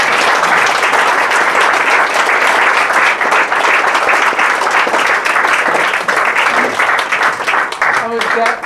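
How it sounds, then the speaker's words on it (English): After a talk on artificial intelligence, a lecture-hall audience gives sustained applause, a loud, unbroken roar of many clapping hands lasting over eight seconds, with a voice faintly emerging near the end. "Should we give Dan a round of applause"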